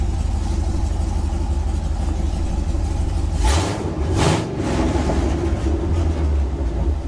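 A Ford Ranger 4x4 race truck with a swapped-in 5.3 LS V8 idles steadily at operating temperature, a deep continuous rumble with a brief swell and dip midway, close and alone.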